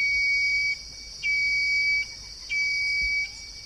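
A whistling heron, Syrigma sibilatrix, gives three sustained, high, pure whistled notes separated by short pauses, clear and fairly close over a steady high-pitched background hum.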